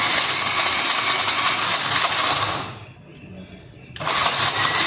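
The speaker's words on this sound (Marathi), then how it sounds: "गूळ घालून छान असं मिक्सरला बारीक असं वाटण करून घेतो आपण" A loud, steady whirring grind of a kitchen mixer grinder grinding jaggery runs continuously, cuts out briefly near the end, then starts up again.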